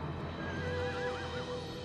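A horse in the Shadow of the Colossus video game whinnies with a wavering neigh over steady clip-clop hoofbeats, close and clear for a couple of seconds.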